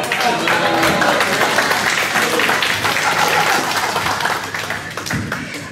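A comedy gig crowd bursts into applause after a joke, loud dense clapping from a full room that stays strong before tapering slightly near the end, with faint cheers mixed in.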